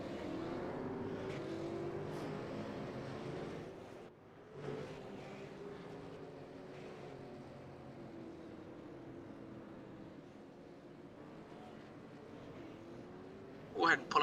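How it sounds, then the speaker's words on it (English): Race cars in a sim racing video game roll off the grid before the Oxford Plains 125, a steady hum of engines heard under continuous talking. "Cars are getting ready to start rolling off the grid here."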